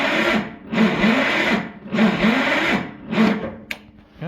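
A small tractor engine with the choke pulled out cranking over without catching, four rhythmic whirring bursts of the starter, close and fairly loud, separated by short pauses.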